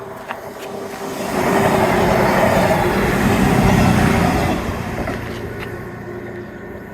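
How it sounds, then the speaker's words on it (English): A train passes nearby in Teignmouth, its low rumble swelling to a broad steady roar in the middle, then easing off as it moves away. "There's a train to celebrate my potential tan."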